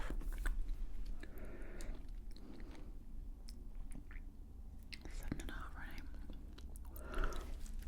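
A biscuit being chewed and crunched up close in a quiet ASMR setting, with soft, moist bites and crunches spread through the clip while someone whispers over them.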